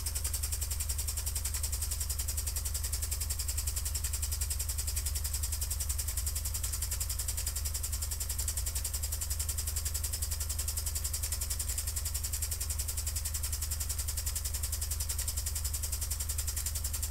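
An Empire B-43 oscillating piston model steam engine with a red throttle regulator runs steadily for the whole stretch, a continuous even mechanical hum and whir with no pauses or speech.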